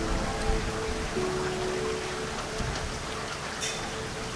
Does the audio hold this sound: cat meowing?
no